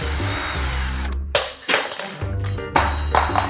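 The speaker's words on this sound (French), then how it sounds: "Perceuse, visseuse." A cordless drill-driver driving screws while refitting door handles during a house renovation: loud whirring motor runs that rise and stop in several short bursts, with clicks and knocks between them and no speech.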